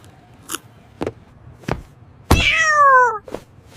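Cat meowing from inside a bag in a comedy sketch: a few sharp rustles and thumps, then one loud, drawn-out meow with falling pitch, followed by another soft bump, with no talking.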